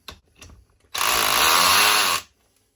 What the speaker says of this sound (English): We put it on drill.